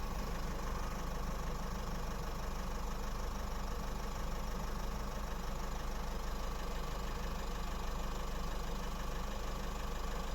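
A 2012 Nissan X-Trail T31 with the 2.0 dCi diesel engine idles at its exhaust, a steady, even low rumble with a faint knocking tick, close and continuous with no voices.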